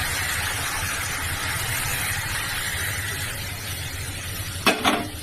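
Cauliflower and chillies sizzle steadily in a hot pan, then water goes in near the end and causes a sudden louder hiss and clatter, with no speech.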